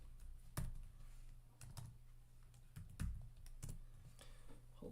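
Typing on a new computer keyboard: scattered soft key clicks and taps in an irregular rhythm, faint and close, over a low steady background hum with no talking.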